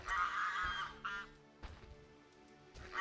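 Ducks in the video game The Witcher give a few honking quacks in short bursts, louder at first and then sparser and fainter.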